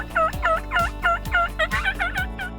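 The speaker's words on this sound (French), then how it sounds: "la chasse au dindon sauvage" A wild turkey gobbles in a rapid, rattling series of loud, close calls over about two and a half seconds, layered over a low pulsing background beat.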